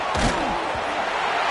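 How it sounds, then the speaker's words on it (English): Football stadium crowd at an Oregon versus Georgia game roaring steadily as the defense is backed up, a dense continuous wash of noise with a thump near the start. "Listen to this crowd just shaking the girders of this place, trying to help their defense"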